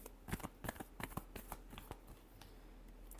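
A deck of tarot cards gets shuffled close by, quiet crisp riffling flicks coming in quick bursts that thin out toward the end.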